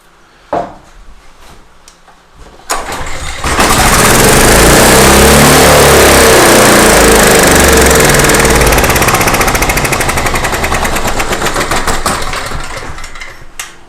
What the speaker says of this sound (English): It cranked, but I can tell it's over revving. It's revving up too high.